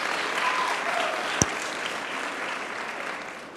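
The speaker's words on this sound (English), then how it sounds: "A big round of applause to all of you for taking the time." Large audience at City Hall giving a sustained, even wash of applause, moderately distant, with one sharp knock partway through.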